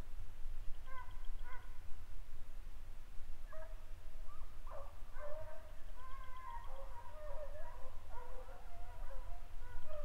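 A cat growls and yowls in drawn-out, wavering cries at a distance, over a steady low background rumble, during a night hunt with running walker hounds in Oklahoma.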